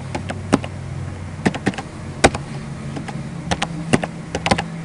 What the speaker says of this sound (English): So I'm going to type in the XYZ coordinate